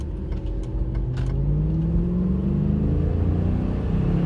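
A 2004 Ram pickup with a 4.7L V8 accelerates hard from inside the cab, its steady engine drone rising gradually in pitch with a deep rumble throughout and no talk.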